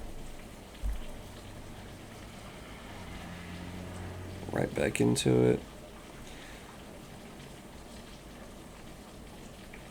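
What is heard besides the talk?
rain falling outside a slightly open window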